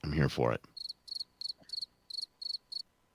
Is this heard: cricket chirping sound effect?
yes